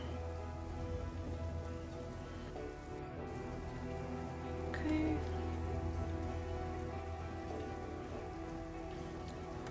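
Steady rain falls in a soft, continuous patter that stays quiet throughout, with one short spoken word over it.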